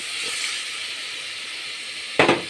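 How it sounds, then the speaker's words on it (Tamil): Ginger-garlic paste and mushrooms sauté in a pan for an egg and mushroom dish, giving a steady soft sizzling hiss with one sharper, louder spatter near the end. "எடுத்து போட்டு மீண்டும் நன்றாக வதக்கி அந்த இஞ்சி பூண்டில் இந்த காளான் வேகிற மாதிரி வச்சுக்கணும்"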